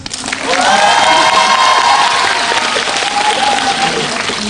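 An audience at a live film talk event claps loudly and cheers, a burst of dense applause from a crowd with excited voices rising over it, then gradually easing.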